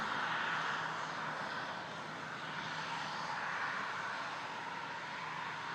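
A steady, distant engine drone from an airliner on the ground at Toronto Pearson airport, holding near the runway, fairly faint and unbroken throughout.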